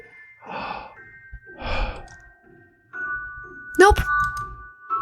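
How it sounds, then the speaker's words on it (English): Heavy breathing comes in two slow, audible breaths, followed by a sharp ringing tone and a quick gasp, close and fairly quiet. "Now, heavy breathing."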